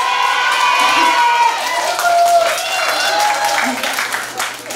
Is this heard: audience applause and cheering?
yes